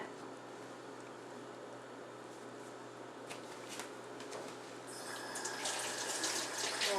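A kitchen tap runs steadily while hands are washed during homemade macaroni and cheese prep, a broad hiss that grows louder and splashier toward the end, with no talking.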